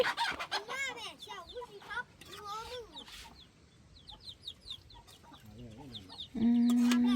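Chickens cluck and crow repeatedly at a rural Thai homestead, with fowl calls rising and falling throughout, overlapping loose chatter, then a steady hum near the end.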